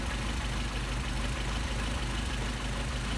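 Mercedes 190SL engine with Solex carburettors idling steadily after idle mixture screw adjustment, a close, even low rumble with faint knocking, running alone without talk.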